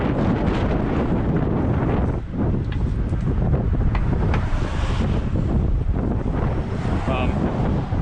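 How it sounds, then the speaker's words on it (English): Heavy wind buffets the microphone in a loud, constant roar with gusty surges, drowning out everything else. "Sorry about the wind, guys."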